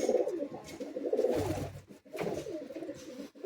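Madrasi high flying pigeons cooing in a loft, soft throaty coos repeating in a couple of close, low bursts.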